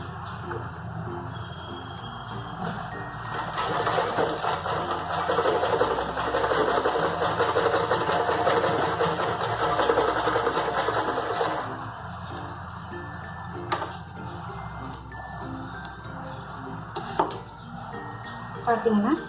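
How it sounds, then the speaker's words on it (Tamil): A sewing machine stitching a straight seam on a bra runs steadily for about seven seconds with a rapid mechanical whir, then stops, leaving quieter background hum and occasional light clicks. "இந்த தையல்லே இப்படி ஸ்ட்ரைட்டாக வர மாதிரி தையல் போட்டுருப்போம்."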